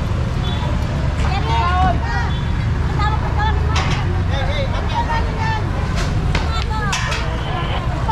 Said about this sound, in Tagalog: Ayun, ang daming mga motor talaga guys.